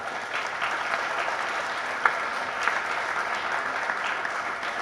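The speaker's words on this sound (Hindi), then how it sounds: "वो तालियां ज्यादा चाहिए" At a Hindi poetry gathering, an audience claps steadily at moderate volume for a few seconds, with a couple of sharper individual claps standing out.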